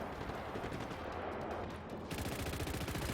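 Rapid Uzi gunfire in the video game Just Cause 3, a dense continuous burst of automatic shots that grows harsher and brighter partway through, loud and with no talk.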